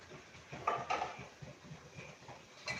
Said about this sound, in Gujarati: સૌપ્રથમ એક પેન મૂકીશું.